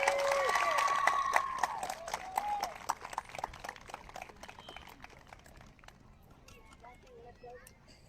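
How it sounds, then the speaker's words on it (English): A crowd applauds the 8th grade McCreary Middle School football team at a school football night: dense clapping that starts under an announcer's amplified voice, then thins and fades over several seconds. "How about another big round of applause for your 8th grade McCreary Middle School football team?"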